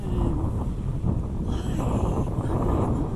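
Steady wind gusts buffet the microphone in a low, continuous rumble on an anchored sailboat in a small, unprotected anchorage, with faint water and boat creaks beneath.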